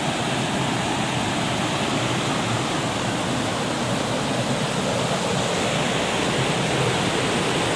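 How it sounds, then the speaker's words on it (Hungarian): A full mountain stream rushing between rocks in the Turenilor gorge in Transylvania, a loud, unbroken roar of water that holds steady throughout with no voices over it. "és itt is a patak."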